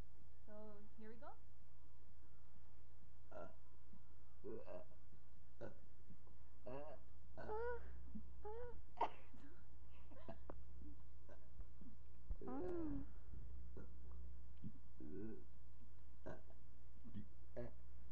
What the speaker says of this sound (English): So whoever burps the most wins.